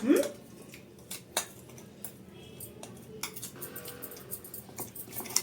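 A spoon scrapes leftover spice paste out of a steel mixer jar, producing scattered metallic clinks and scrapes at an uneven pace, close and moderately quiet, with no talking.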